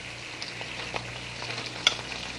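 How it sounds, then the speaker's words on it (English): Sausages go into a pan of boiling water on a kitchen stove, giving a soft, steady bubbling sizzle broken by a few faint clicks and small splashes. "All right, that water is now boiling. You can see it and hear it. I'm going to add the sausage."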